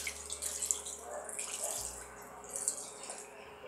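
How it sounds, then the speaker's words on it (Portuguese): Tap water runs steadily as makeup brush bristles are rinsed under a faucet, a close, continuous splashing hiss with small shifts in flow and no talking. "enxago toda a cerda do pincel"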